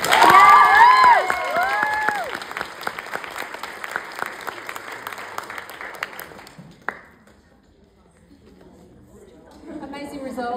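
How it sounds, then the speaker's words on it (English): Crowd applause and cheering for a first-place winner at a calisthenics competition, loud at the start over music and then thinning into scattered clapping before fading; voices come back near the end. "One more round of applause"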